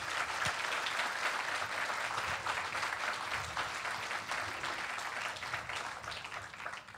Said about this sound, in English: Please give our ambassador a round of applause.